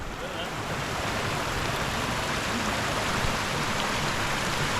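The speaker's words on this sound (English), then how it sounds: "there's a big waterfall over there" Water rushes loudly and steadily near a big waterfall on a rainy camping trip, a dense unbroken roar filling the whole stretch.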